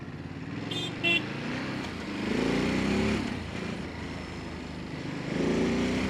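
A Ducati Monster motorcycle engine runs nearby, rumbling with a few gentle swells of revs over a steady low throb, with two brief high tones early on.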